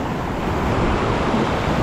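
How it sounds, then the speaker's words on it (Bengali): Water from a waterfall near Sittong rushes in a loud, steady, broadband roar with no breaks, close to the listener and unaccompanied by talk. "ঝর্ণার জল বইছে"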